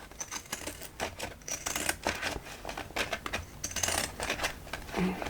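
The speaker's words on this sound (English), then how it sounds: "using some pinking shears or scissors and cutting notches, we clip into those corners" Blunt pinking shears snipping notches into fabric corners while sewing a backpack, giving a run of dense crisp clicks and crunches close up, with no talk.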